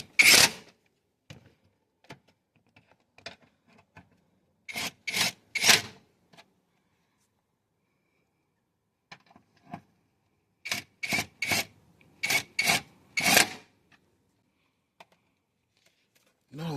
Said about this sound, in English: I'm just gonna screw the bolts in.